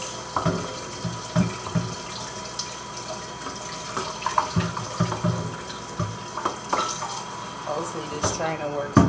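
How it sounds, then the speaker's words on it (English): Tap water runs into a kitchen sink while a strainer is rinsed, giving a continuous splashing patter with intermittent clatter and a voice talking over it. "Rinse out my strainer."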